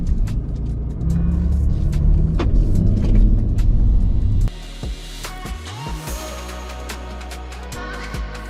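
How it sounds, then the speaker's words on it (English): A Range Rover Sport L494 3.0 diesel drives along with a steady engine rumble and road noise, the sound shifting to a quieter cabin hum partway through. "So, driving the Range Rover Sport."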